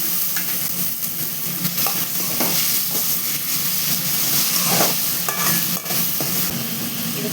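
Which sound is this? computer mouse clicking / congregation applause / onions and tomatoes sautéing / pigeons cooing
onions and tomatoes sautéing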